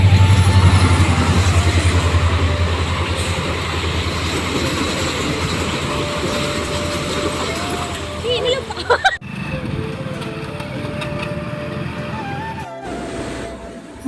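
A train rumbles past nearby behind a closed level-crossing gate, loud and continuous with rail clatter, fading after a sharp break; faint voices underneath.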